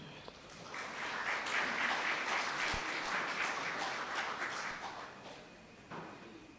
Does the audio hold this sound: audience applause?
yes